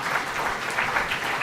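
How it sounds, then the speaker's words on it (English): Crowd applause at an anniversary celebration on a dais, a brief, steady, close burst of many hands clapping at a constant level. "A big round of applause, ladies and gentlemen,"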